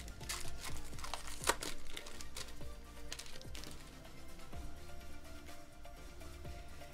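Foil wrappers of Storm Series 2 trading card packs crinkle and tear as they are opened, a close, irregular rustling with sharp crackles and no voices.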